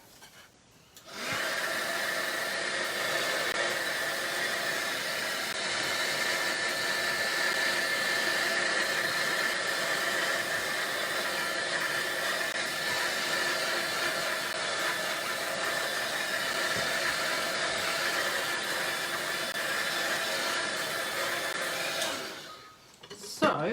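A hair dryer blows on a painting with a steady, loud, close whoosh and high whine that runs for about twenty seconds, starting and stopping cleanly.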